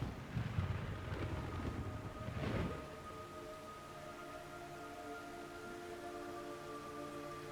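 Steady rain-like hiss with a low rumbling swell early on, then a calmer, sustained wash of ambient noise with faint droning tones, from rain falling in Metal Gear Solid 3: Snake Eater.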